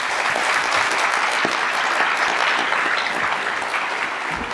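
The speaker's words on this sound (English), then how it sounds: "let's give them all a round of applause." Sustained applause from an audience honoring a panel at a public policy event on immigration, dense and steady clapping throughout with no talk over it.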